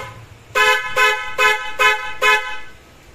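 Five loud, harmonic blasts from a Honda Jazz fitted with an aftermarket Europa or FIAMM horn set, each about a quarter second long and evenly spaced, sounding close and dominant with only faint background noise between them.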